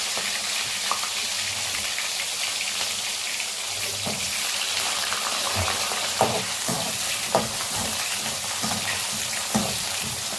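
Garlic and small shallots fry in a pan for a fenugreek curry, a steady close sizzle with scattered stirring knocks and spoon scrapes, no voices.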